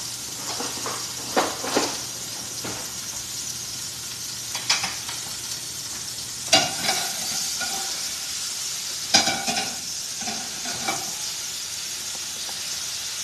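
Zucchini blossoms sautéing in a pan give a steady close sizzle and hiss, broken by a few sharper bursts of spatter and scraping as the pan is tossed or stirred, with no talking.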